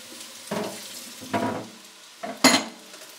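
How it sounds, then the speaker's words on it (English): Sri Lankan stir-fried noodles with vegetables, lemon juice and soy sauce are stirred in a pan, giving four separate wet scraping, slapping strokes spaced roughly a second apart, close and fairly loud. "we stir this all up, being sure to get the goodness at the bottom of the pan"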